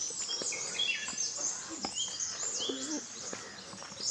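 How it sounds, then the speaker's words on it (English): Birds chirp and sing in quick, overlapping high calls against a soft outdoor background at a rural Konkan homestay, with occasional brief rustling sounds. "I would like to stop my commentary so that you can hear the music of birds."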